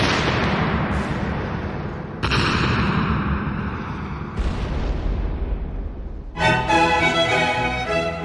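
A series of loud, heavy explosions booms one after another, each with a sudden blast and a long rumbling decay, the last burst ringing brighter.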